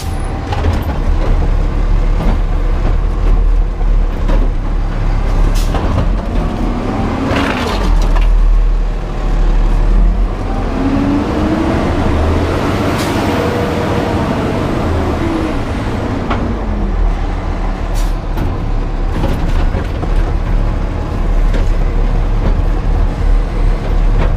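The diesel engine of a brand-new, fully automatic Peterbilt garbage truck runs loud and steady up close. A sustained low rumble carries through with air-brake hisses and a rising and falling whine partway through.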